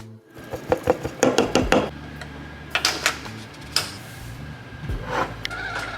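Dried yaupon holly leaves being crushed by hand for tea, giving a series of crisp, close crackling and rustling bursts that come in uneven clusters, with faint background hum.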